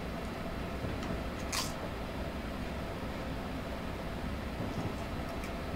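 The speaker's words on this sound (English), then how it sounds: "the train sounds more realistic now, or the runs on the train sound more realistic now thanks to the run sounds." Amtrak coaches roll along in Train Simulator 2019, giving a steady, quiet broadband rumble of running noise with a brief higher click partway through, no voices.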